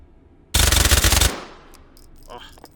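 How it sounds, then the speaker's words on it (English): A suppressed G19 pistol fired in the H3VR virtual reality shooting game: a rapid, loud burst of closely spaced shots for under a second, then a fading tail and faint mechanical clicks. "let's hear that with a suppressor on there. Pop this on. This is the G19 suppressor."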